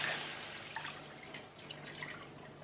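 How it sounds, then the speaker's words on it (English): Beef stock poured into a pot for steak and kidney pie, a continuous close splashing and trickling of liquid running without pause. "basically in goes all of the stock"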